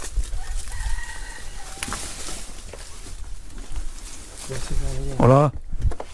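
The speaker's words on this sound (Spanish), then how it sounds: "Estamos viendo gallinas, chicos, no sé. O gallo." Chickens clucking and a rooster crowing inside an abandoned house, the crow rising loud and close near the end over a steady background with faint talk.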